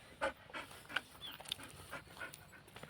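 A dog pants in quick, faint breaths, with a soft whimper and a few light rustles, no voices heard.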